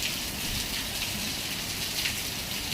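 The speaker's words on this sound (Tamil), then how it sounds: "சரியான மழை பெய்யுது." Heavy rain pours down in a steady, dense hiss, loud and continuous throughout, with a broad rushing wash and no voices over it.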